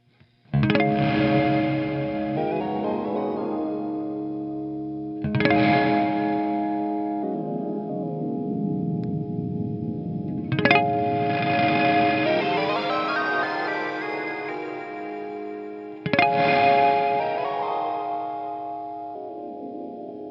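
EarthQuaker Afterneath guitar pedal in mode 6, a major Lydian harmonizer, turns four struck guitar chords into lush, choir-like shimmering swells with long reverberant tails that bloom and fade before each new strum.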